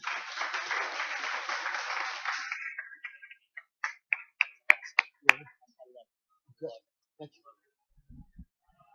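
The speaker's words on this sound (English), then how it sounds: "Big round of applause for David Levitt, Pantomime Corporation." Audience applause at a VR industry meetup builds as a dense burst of clapping, then thins within a few seconds into scattered, separate claps that fade out near the end.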